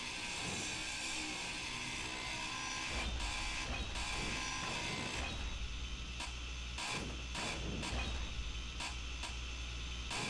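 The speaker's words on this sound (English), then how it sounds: "Let's grind some of this down." A grinder tool whirs steadily while dismantling blocks in the Space Engineers video game, a continuous mechanical drone with a deeper rumble and brief rhythmic dropouts partway through.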